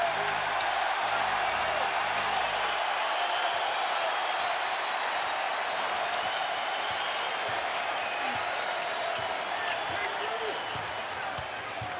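A basketball arena crowd at an NBA playoff game between the Knicks and Celtics, with sustained loud cheering and applause that fills the hall for the whole stretch, steady and dense throughout.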